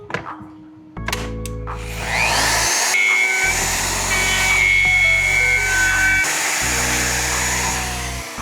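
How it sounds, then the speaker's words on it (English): A router spins up close by and runs at a steady, loud whine while cutting deeper into an ash guitar body, and the pitch and load shift as the bit bites into the wood. "I'm just going to zero in my router"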